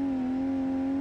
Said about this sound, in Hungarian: ez gyorsan gyorsul, ez a kocsi ugyanis turbó van benne, meg 3000 köpcent is, meg minden.